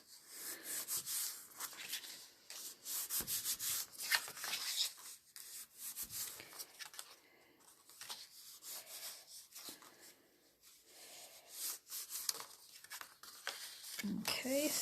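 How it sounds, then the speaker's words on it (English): A bone folder burnishes score lines on a paper card, making repeated close rubbing and scraping strokes in an uneven rhythm, with a voice now and then. "so burnish your score lines"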